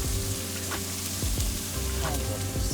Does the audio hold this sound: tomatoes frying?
yes